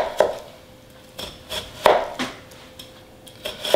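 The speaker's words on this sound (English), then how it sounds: "you're gonna make some slices down the onion here" A knife slicing down through an onion on a cutting board, several distinct close chops tapping the board at uneven intervals in a quiet kitchen.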